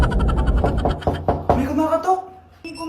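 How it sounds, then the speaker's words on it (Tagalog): Knocking on a door, several sharp raps in a quick irregular series, loud and close, with voices talking around and over the knocks. "May kumakatok."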